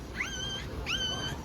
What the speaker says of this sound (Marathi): काहीच कुत्रा आलाय धावणार आहे आता याच्या अंगावर